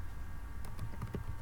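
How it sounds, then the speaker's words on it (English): Fingers typing a short burst on a computer keyboard, a few quick soft key clicks over a faint steady room hum, close and quiet, with no talking. "I'm just going to type something here."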